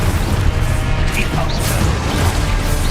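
An Expulso spell in the wizarding game Hogwarts Legacy lands as a loud, dense blast, a crashing explosive burst with rumbling low end that stays thick and noisy throughout.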